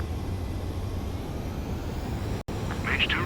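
A jet aircraft landing in Ace Combat 7 gives off a steady, broad roar with a brief dropout. Faint higher tones rise near the end.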